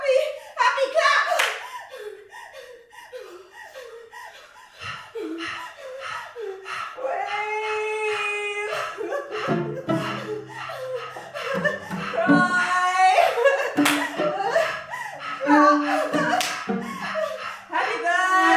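A group sings and chants through a birthday song with laughter and scattered hand claps and slaps keeping time, voices loud and close throughout.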